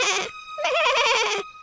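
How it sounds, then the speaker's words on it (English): Little goats bleat in a short, quavering cry, two wavering calls in quick succession, clear and close with no talking. "they heard the voices of the little goats"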